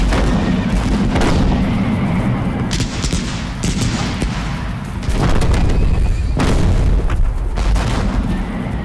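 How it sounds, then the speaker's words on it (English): A Confederate artillery barrage at the Civil War battle of Shiloh pounds the Hornet's Nest, loud, continuous cannon booms and blasts overlapping in heavy waves, with horses whinnying and battle noise mixed in. "Confederate guns pound away at the Hornet's Nest."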